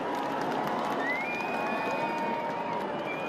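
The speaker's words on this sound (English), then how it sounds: "Oh, a stupid crowd." A large outdoor crowd gives a steady, loud roar of cheering during an aircraft flypast, a dense wash of voices and clapping that holds without break, with a single voice briefly rising above it.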